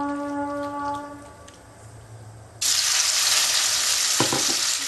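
After a quiet humming lull, chou chapati batter hits hot oil in a wok with a sudden loud hiss that settles into steady, close frying, with a couple of brief clinks near the end.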